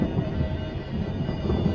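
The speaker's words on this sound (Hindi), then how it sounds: "ठीक उसी वक्त गोल्डन गेट होटल के ऊपर आसमान में बिजली कड़की।" Thunder sounds over a hilltop hotel on a drizzly evening as a horror-story effect, a dense low rumble rolling continuously throughout.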